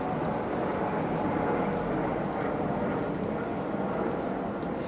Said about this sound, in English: I see a helicopter upstairs.